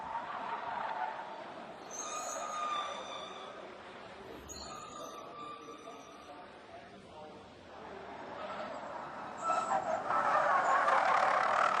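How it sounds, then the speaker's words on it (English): Tyres squealing on a fully electric all-wheel-drive Jaguar I-Pace eTROPHY race car during qualifying in Berlin, high screeches rising over motor whine and track noise while a commentator talks. "Nice tire squealing there."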